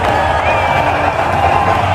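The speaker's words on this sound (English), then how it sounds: "The crowd finally getting into it." A cricket stadium crowd cheers steadily in a dense, continuous roar of many voices, loud and sustained throughout with no distinct commentary.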